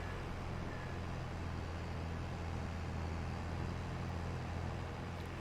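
A farm tractor in Farming Simulator 22 rolls down a road with a steady, droning engine rumble that stays constant and fairly loud throughout, with no voices over it.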